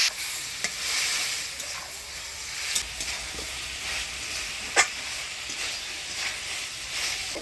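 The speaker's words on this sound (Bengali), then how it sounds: "লবণ দিয়ে ভিন্ডির সাথে ভালো করে নাড়াচাড়া করে নেব। অল্প জল দিয়ে ভালো করে ভিন্ডিটা কষিয়ে নেব।" Okra with salt sizzles in a pan, a steady frying hiss broken by intermittent spatula scrapes and clicks as the vegetables are stirred close by.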